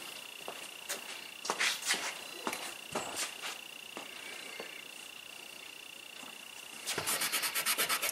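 A pencil drawing being rubbed out with an eraser, a series of quiet, brief scrubbing strokes scattered across the span, finishing in a faster run of rapid back-and-forth rubs, with no speech.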